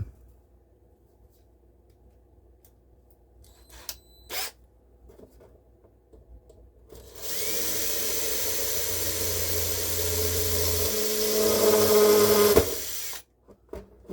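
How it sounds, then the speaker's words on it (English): A few faint clicks and taps, then a power drill runs steadily for several seconds with a high whine, drilling holes in a plastic Tamiya model Mercedes truck cab, stopping abruptly. "Drill holes out in a cab."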